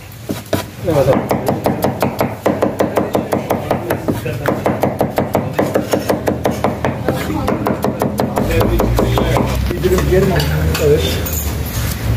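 A cook in a Tarsus industrial-estate eatery stirs liver as it cooks, and the utensil strikes the cooking surface in fast, regular metallic knocks that stay close and loud, with voices and background music mixed in.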